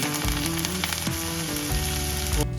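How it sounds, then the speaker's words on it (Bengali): Nigella seeds sizzle and crackle in hot oil in a pan for a spicy katla fish curry, a steady close frying hiss running throughout with no talk. "এবার সবার প্রথমে এর মধ্যে আমি কালো জিরে দিয়ে দেব।"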